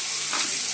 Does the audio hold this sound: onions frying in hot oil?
yes